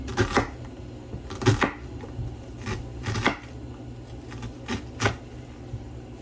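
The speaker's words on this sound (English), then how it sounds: "there we have our diced onion" Knife dicing onion on a cutting board for potato salad: sharp, close chopping knocks in irregular bursts of two or three quick strikes with short pauses between.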